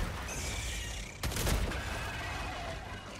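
A crossbow firing in Helldivers 2: one sharp, loud shot cracks through steady game ambience and rumble, followed by a short burst of impact noise.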